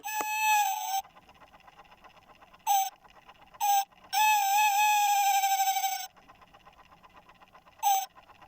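A British bird clock plays its tawny owl call for twelve o'clock: loud, tonal hooting bursts separated by near-silent gaps, with one longer sustained hoot in the middle, sounding close and slightly electronic.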